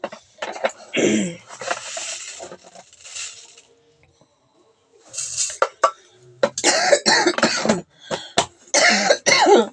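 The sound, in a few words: coughing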